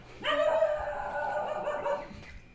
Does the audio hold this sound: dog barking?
yes